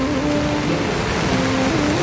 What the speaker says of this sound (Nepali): फेरि पानी पर्दैछ